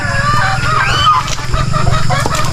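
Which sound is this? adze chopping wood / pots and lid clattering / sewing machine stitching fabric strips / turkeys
turkeys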